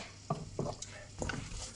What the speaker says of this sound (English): Get them onions and that garlic caramelising, yeah?